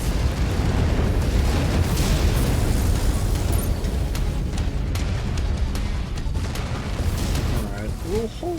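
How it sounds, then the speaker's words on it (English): Missile explosions in the MechWarrior 5: Mercenaries video game, a dense, continuous roar of heavy booms and rumbling blasts filling the whole stretch at high volume, with voices talking over the battle noise. "Incoming missile."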